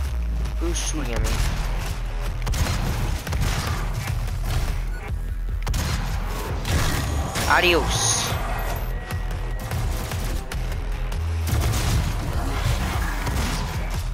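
DOOM video game combat: loud sustained gunfire and booming impacts over a dense roar, with voices talking throughout.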